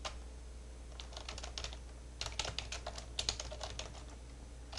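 Computer keyboard being typed on in quick irregular bursts of clicks, including a key press for enter, close and crisp against a quiet background with no talk.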